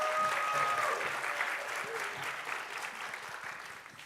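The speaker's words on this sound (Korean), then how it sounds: "박수로 환영해 주십시오." Church congregation applauds to welcome the sermon interpreter at a Sunday service, a steady wash of clapping from many hands that fades slightly over four seconds.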